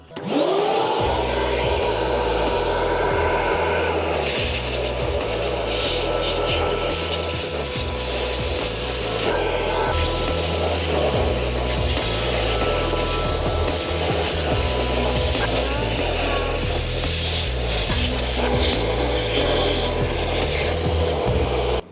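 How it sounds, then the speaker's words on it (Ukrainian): STARK VC201 construction vacuum cleaner with a crevice nozzle drones steadily and loudly throughout, with rubbing and scraping as the nozzle draws debris out of deep floor gaps. "давайте попробуємо, як працює насадка для щілини"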